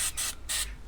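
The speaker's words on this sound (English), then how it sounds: "So I always spray a bit of brake cleaner" Brake cleaner hisses from an aerosol can onto Fiat 500 car parts outdoors on a driveway, in three short close bursts over a low background rumble.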